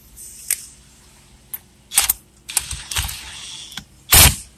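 A power impact tool rattles in short bursts while tightening a bolt on a Hyundai during clock spring work, with several separate hits spread across the clip and a loud final burst near the end.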